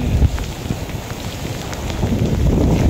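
Heavy rain pours down on a mountain trail in Paete, Laguna, as a broad steady hiss with dense drop patter that builds louder toward the end, with no voices over it.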